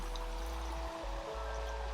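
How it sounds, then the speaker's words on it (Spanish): A calm, clear river flows steadily, a soft continuous rush of water with a low rumble beneath, constant and even throughout. "El río es muy tranquilo y el agua es muy clara."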